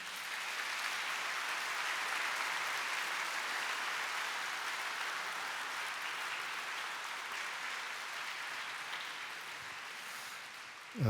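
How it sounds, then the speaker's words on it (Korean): A congregation at a church general assembly applauds the newly installed general assembly moderator and officers at an inauguration ceremony, with soft, sustained and somewhat distant clapping that runs evenly for about eleven seconds. "박수로 격려해 주시기 바랍니다"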